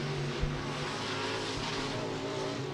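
A race car on an oval at Beckley Motor Speedway runs a qualifying lap in a local class, a steady engine drone holding throughout with a brief louder burst near the start.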